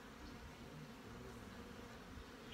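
Honey bees buzzing steadily around a small nuc hive stocked with resources and drifted bees, a continuous low insect drone that stays faint and close throughout, with no talking.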